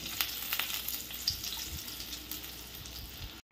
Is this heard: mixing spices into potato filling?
yes